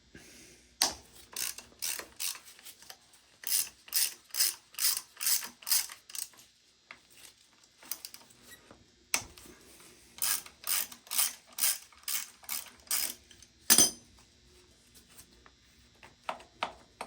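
A ratchet loosening brake caliper bolts on the front fork of a 1996 Suzuki RM125 motorcycle: bursts of rapid clicking strokes in regular rhythm, close and crisp, separated by short pauses, no talk.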